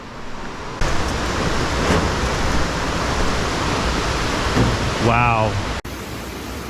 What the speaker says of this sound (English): as you can see behind me, the Sekumpul Waterfall